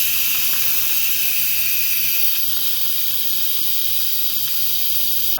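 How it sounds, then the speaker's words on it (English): A pressure cooker vents steam after cooking rice for a beef biryani, giving a steady, loud, continuous hiss that holds unchanged throughout. "Our rice is ready, so I'm going to be releasing the pressure."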